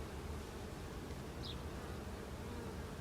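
Honeybees swarm around hives during an inspection at the Spokane County Interstate Fair, giving a steady, faint, continuous buzz throughout.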